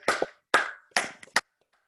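A few hand claps at an outdoor yoga event, close and distinct, in an uneven rhythm with short gaps between them rather than sustained applause.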